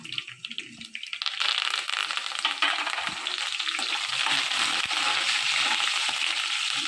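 Curry leaves drop into hot oil and crackle loudly, a dense steady sizzle for the stretch of the moment while ivy gourd stir-fry is made, quieter stirring just before it flares up.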